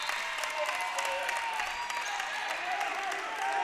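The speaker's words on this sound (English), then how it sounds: "Crowd's getting into this." Fans at a Milligan University versus Johnson University college basketball game cheer and applaud in a steady, somewhat distant roar, with an announcer's voice and shouts mixed through the crowd noise.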